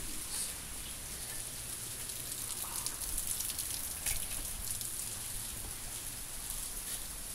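Heavy rain falls steadily outdoors in Portland, a dense, even hiss of drops spattering on surfaces, close and continuous with no voices.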